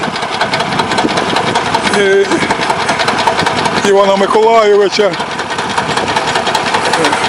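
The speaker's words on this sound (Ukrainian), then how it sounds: "Трактор Т-25" A T-25 tractor digging potatoes in a village garden plot, its engine running with a steady loud rumble throughout while a person talks over it.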